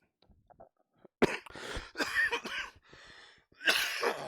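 A man suffering a heavy cold coughs repeatedly in harsh, close bursts, several chesty hacks in a row followed by a pause and a final rough cough.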